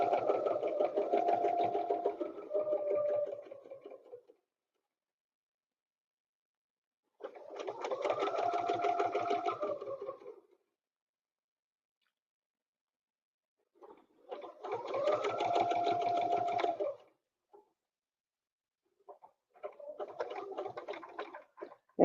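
A sewing machine at a jewel designs crafting session running in four separate bursts of a few seconds each, a quiet rapid mechanical whir with silent pauses between.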